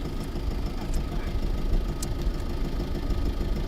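Engine of an oyster boat returning loaded to shore at a coastal oyster farm, a steady close low rumble with a knocking idle-like throb running throughout without pause.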